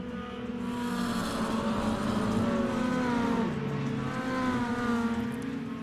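Stock cars in the RPES Extreme Outlaw Stock Tour accelerate hard on a green-flag restart. A loud, sustained engine roar climbs in pitch, dips briefly, then surges again.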